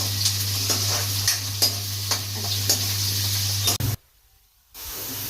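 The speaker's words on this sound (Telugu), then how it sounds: "ఉల్లిగడ్డ మంచిగా ఫ్రై అవ్వనివ్వాలి." Onions frying in a pan for a chicken gizzard and drumstick masala, with a continuous close sizzle, repeated stirring scrapes, a low steady hum, and a brief silent break near the end.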